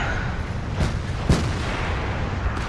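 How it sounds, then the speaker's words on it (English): Tank cannon shot striking the side of a stationary E100 heavy tank in World of Tanks, heard as a couple of sharp, distant impacts over a steady rumbling battle background. "he started backing up, which meant the shot went straight into the side of his tank"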